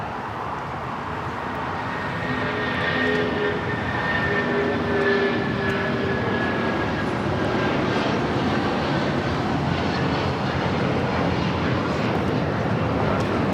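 United Airlines Boeing 757-200 jet taking off from Los Angeles International Airport for Houston, its engines giving a loud, sustained roar with a whining tonal edge that holds steady throughout.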